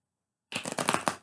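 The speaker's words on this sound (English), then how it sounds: "One more shuffle." A quick riffle of tarot cards being shuffled, a brief crisp flurry of flicking after a moment of silence.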